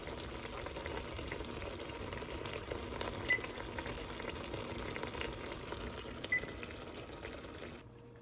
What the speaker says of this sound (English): While our ground beef mixture is simmering